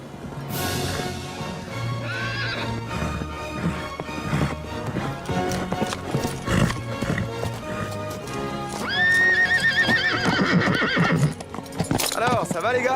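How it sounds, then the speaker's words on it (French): A horse galloping with rhythmic hoofbeats and a loud neigh near the end, set under a music score, with people talking over the sounds. "Depuis quand tu montes à cheval comme un dieu?"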